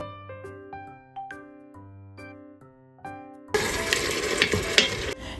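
Water is poured into a one-pot chicken stew of fried onions and chicken, giving a loud, continuous rushing splash for the final couple of seconds. A few seconds of plucked music come first.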